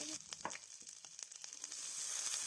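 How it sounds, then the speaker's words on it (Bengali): Whole mustard seeds and chopped ginger fry in a little mustard oil, giving a soft, steady sizzle with faint crackles and pops throughout, heard close. "দু চামচ মতন গোটা সর্ষে আগে থেকে কেটে রাখা আদা কুচি হালকা করে তেলে ভেজে নিতে হবে"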